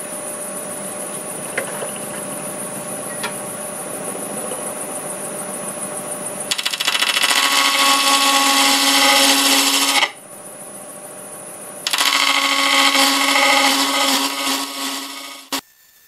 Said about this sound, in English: I've got my half inch bowl gouge, and I'm going to see if I can just nibble these things off without having them chip.